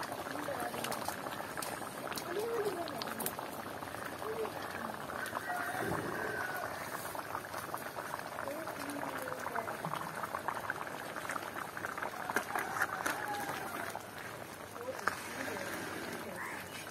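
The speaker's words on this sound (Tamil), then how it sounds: "நண்டு குழம்பு கொதிக்கிற வடிவ பாத்தீங்களோ." Crab curry with drumstick-tree bark and spice powder bubbles steadily in an open pot in a Jaffna village kitchen, a continuous close simmering with popping bursts, while a voice talks over it.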